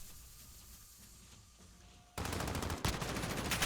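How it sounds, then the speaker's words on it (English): Gunfire in the video game Black Ops-style clan match of The Division 2, a sudden loud burst of rapid automatic shots starting partway through after quieter game ambience, continuing dense and close to the end. "Ooh, some shooting still going on."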